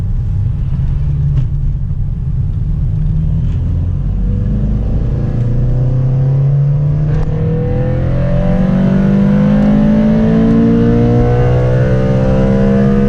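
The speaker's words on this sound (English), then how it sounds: "do a 3rd gear wide open throttle pull from 2K all the way to 84" A tuned Honda Civic Si pulls hard in third gear at wide open throttle from about 2,000 rpm, its engine note climbing steadily and growing louder as it accelerates, heard close and alone with no talking.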